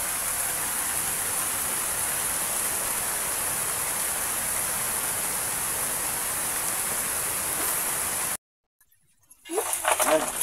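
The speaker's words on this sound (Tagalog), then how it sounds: "Umuulan na mga kapibi, umuulan na." Steady rain falls outdoors during traditional fishing in the province, a dense, even hiss filling the first eight seconds before cutting out, followed by a brief burst of voices.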